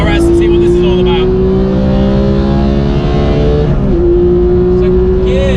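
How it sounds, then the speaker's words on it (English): A Porsche GT3 RS races around a circuit, its engine holding a loud, steady high-pitched note that climbs through the gears, with a brief dip near the four-second mark before it pulls again close to the microphone. "Let's chase this GT3 RS and see what this is all about."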